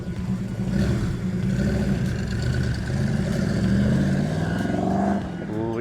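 A 1970 Plymouth 'Cuda AAR passing by in a flyby, a loud engine roar rising and sustained, then easing off as the car moves away, with a voice speaking faintly beneath it.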